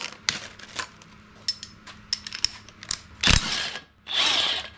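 Hand and power tools at work removing motor mounts from a Jeep engine: rapid ratcheting clicks, metallic taps and short bursts of whirring, close by with no talking.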